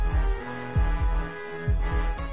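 A heartbeat in the Death Park clown survival horror video game, deep booming thuds in quick double beats that speed up, loud and close over a low hum.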